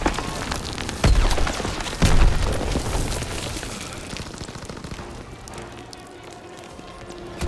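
Grenade blasts in the Call of Duty: WWII video game during a final mission firefight, with two sharp booming bursts near one and two seconds and a rumbling, crackling battle wash that slowly fades.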